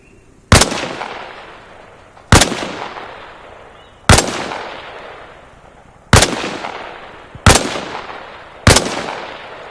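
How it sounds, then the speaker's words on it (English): Six loud rifle shots from iron sights at targets in the Arma Reforger video game, each a sharp crack with a decaying tail, spaced roughly two seconds apart with no talking. "I want to hear 5 shots. Aim down the iron sights and knock them dead."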